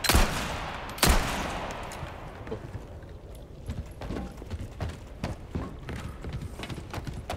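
Repeated sharp gunshot bursts in the video game Resident Evil 4 Remake, an opening loud shot then a string of scattered pops and thuds over a constant noisy background.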